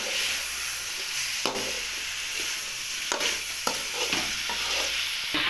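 Chicken curry masala sautéing with cumin powder in a pan, a steady close sizzle broken by several sharp scraping stirs of a spatula.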